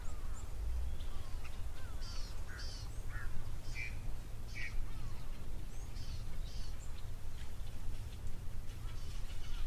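Birds call around Tower Waterhole, with crow-like caws and scattered chirps rising over a steady low outdoor rumble, fairly faint and spread across the scene.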